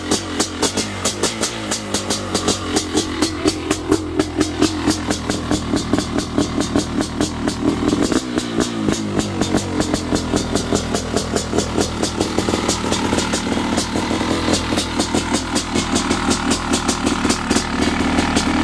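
A 500cc two-stroke dirt bike engine runs steadily nearby, a rapid, raspy, popping idle with occasional revs, loud and continuous throughout.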